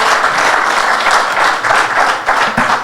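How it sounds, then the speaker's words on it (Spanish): Church audience applauding pastor Juan Varela after a question session, a dense, steady wash of many hands clapping at close range, with a slight dip and swell near the end. "Le damos un aplauso al pastor Juan Varela"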